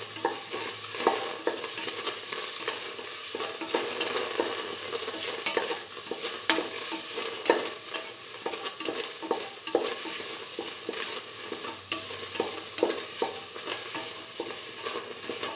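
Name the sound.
sauteing semolina with cardamom pods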